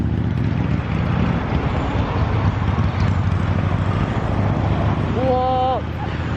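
A Paton S1-R motorcycle rides the Isle of Man TT mountain course, a loud, steady engine roar buried in heavy wind rush throughout, with a rising gear-change whine near the end.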